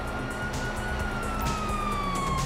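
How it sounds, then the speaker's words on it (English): A GTA 5 police siren wails in a steady, drawn-out sweep, moderately loud beneath a dense rumble of traffic and game noise, with no talk. "you hear that? Sirens!"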